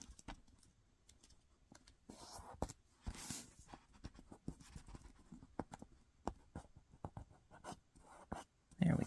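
Origami paper being creased into a kite fold, edges brought to the center crease, heard as soft, irregular crinkling and tapping close by with no voices.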